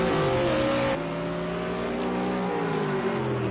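GT3 race cars lapping Imola in the racing game Project CARS 2, a steady high engine drone with layered pitches that shift slightly as the cars run together, close and continuous with no voices.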